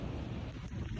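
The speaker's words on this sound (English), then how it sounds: "I apologize for the wind." Gusty wind buffets the microphone outdoors, a brief, low, rumbling rush over about one second with no other sounds.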